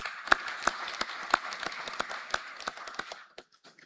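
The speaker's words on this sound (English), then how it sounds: "applause for our supervisory board." An audience claps for a supervisory board at a forum, with a few loud, distinct nearby claps standing out from a thinner crowd patter that quickly dwindles to scattered single claps and stops.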